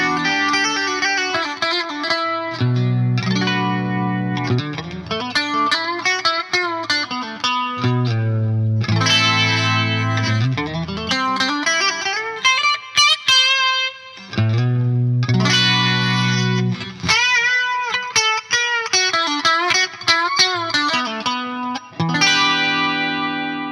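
A Squier Affinity Stratocaster electric guitar strung with thicker-gauge strings plays heavy distorted metal riffs, chugging low notes and sustained chords broken by short gaps, loud and close with no talking.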